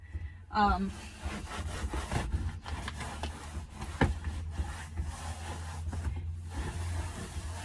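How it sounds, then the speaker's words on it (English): Scrubbing the interior of a 1983 Chevrolet C30 truck: rough, uneven rubbing and scraping strokes with a few sharp knocks, close and moderately loud, with faint talk nearby. "we are just scrubbing it as best I can"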